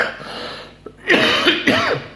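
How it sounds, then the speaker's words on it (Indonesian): Coughing up close from a teacher with a sore throat, a few harsh throat-clearing coughs following a brief quiet moment. "Maka saya di sini sekarang batuk-batuk."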